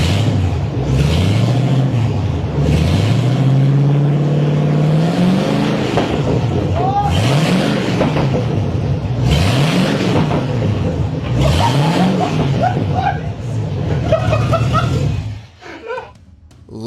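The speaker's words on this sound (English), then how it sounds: "just give it a little bit of rev and make sure that there's no cobwebs in these pipes" A V8 running on bare headers with no exhaust fitted, blipped through several sharp rising and falling revs, loud and close, with voices talking over it throughout and a quieter tail at the end.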